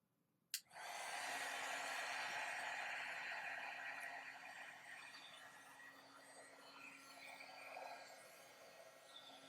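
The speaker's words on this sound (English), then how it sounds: "let your heat gun heat up before you go to the vellum" A heat gun switches on with a sharp click and blows a steady, faint whooshing hiss as it heats embossing powder on vellum, tapering slightly toward the end.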